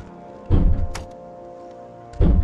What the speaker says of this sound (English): So I'll open up that door, which is timed.